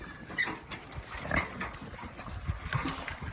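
Pigs on a farm feeding on dumped food scraps, with snorting, grunting and rustling close by in a continuous busy jumble.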